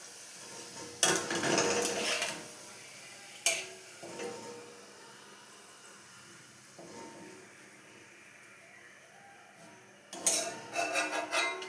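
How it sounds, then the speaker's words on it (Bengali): Papad fries in hot oil in a wok on a gas stove, giving bursts of crackling sizzle between quieter stretches, with the clatter of utensils against the pan. "আমি পাঁপড়গুলো ভেজে নিই"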